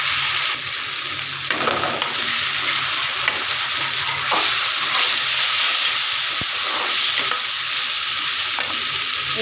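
Rice and lentils stir-frying in a pan with cumin paste and turmeric, a steady close sizzle and hiss with scraping stirs and a few sharp clicks of the spoon against the pan, no voices.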